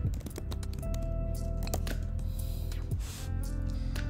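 Rapid, steady typing on a laptop keyboard, close and clear, with dense clicking keystrokes running continuously and no voices.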